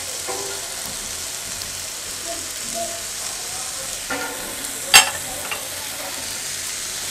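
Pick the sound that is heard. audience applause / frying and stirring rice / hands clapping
frying and stirring rice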